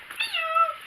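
A cat meows in one drawn-out, rising and falling call, close and fairly loud, heard at a busy comic convention with no talking over it.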